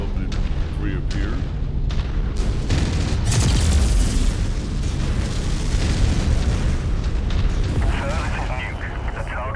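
Explosions from long-range missile salvos in a mech combat video game, a dense, continuous rumble of booms and bursts with a louder blast cluster near the middle, mixed with game effects.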